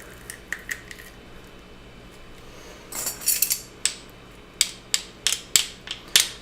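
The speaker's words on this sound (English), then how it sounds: "I'm just going to take a little piece of it. We're going to add it into our garlic press here." A garlic press clicks and crunches as it squeezes a small piece of ginger in a home kitchen, with sharp metallic snaps coming first sparsely and then in a quicker string of firm squeezes.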